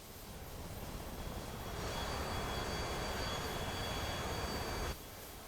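A JAS 39C Gripen jet taxis on a runway in a flight simulator, giving a steady, faint engine whine and hiss that swells slightly midway and then drops back, with no talk.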